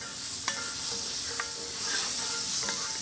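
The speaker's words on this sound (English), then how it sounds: "Add a little bit of butter to our cast iron pan." Butter melting in a hot cast iron pan sizzles with a close, continuous hissing froth, a few soft clinks and spits rising through it and no talk.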